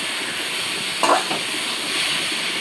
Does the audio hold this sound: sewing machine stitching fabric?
no